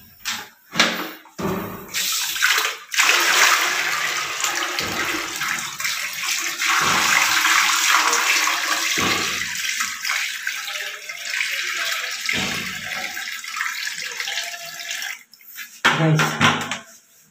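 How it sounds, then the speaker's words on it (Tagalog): Water poured into a toilet bowl being cleaned of rust, loud sloshing and rushing bursts splashing in repeatedly over a long stretch, close by with brief pauses between pours. "Buhusan natin ng tubig."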